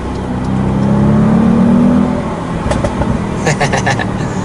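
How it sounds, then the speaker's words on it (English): A 2017 Audi S8 Plus V8 engine revs up in a rising, loud drone, then backs off into a rumbling idle with sharp crackles and pops from the exhaust. "And then you've got the noise of the V8 there."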